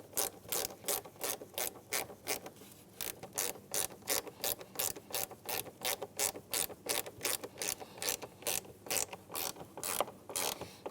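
A hand ratchet clicks steadily in quick, even bursts as it tightens a mass air flow sensor bolt on a 2007–2015 Mazda CX-9, with short pauses between strokes. The clicks are close and fairly quiet.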